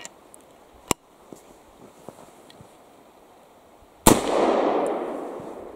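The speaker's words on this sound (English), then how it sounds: "let's try that one that did go off in the rifle" An old cartridge fired in a Remington Rolling Block rifle outdoors: after a few faint clicks and taps, one sudden loud report rings out, followed by a long rushing decay of echo and wind noise.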